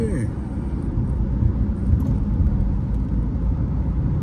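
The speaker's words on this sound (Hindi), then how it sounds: "ये देखो पूरा पंजा दबाने पे गाड़ी बता रही है कि हाँ मेरे में पावर है" A Tata Sierra turbo engine is held at full throttle around 60 km/h and feels underpowered, giving a low, steady in-cabin rumble with a voice talking over it.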